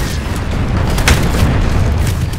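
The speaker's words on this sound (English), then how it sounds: "grenade!" A grenade explosion in the video game Planetside 2 comes through as a loud, deep rumbling boom amid continuous heavy low battle noise, with no distinct sharp blast standing out.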